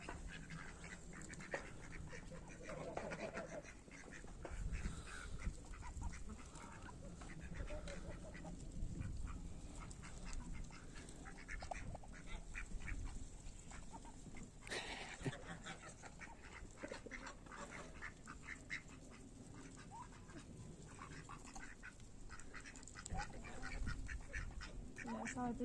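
Geese honk and waterfowl call repeatedly at close range outdoors, with a person talking intermittently over the birds and a steady background of farmyard noise.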